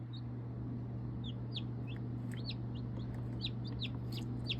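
Chicks and ducklings peeping in a brooder, with many short high chirps scattered irregularly over a steady low hum, close and moderately loud, no talking.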